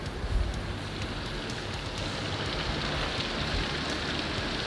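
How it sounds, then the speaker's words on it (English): Steady rain patters and hisses across surfaces, an even, dense wash of sound with no voices. "Yep, it's raining."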